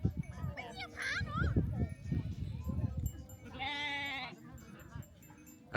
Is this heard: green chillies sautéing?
no